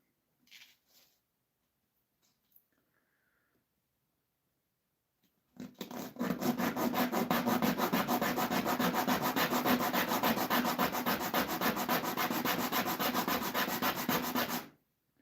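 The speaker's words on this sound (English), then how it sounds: "I'm just going to sand this one little piece on the hand sand." After a few faint knocks, hand sanding on a redwood fence board starts up and continues as a steady, close, scratchy rubbing for about nine seconds.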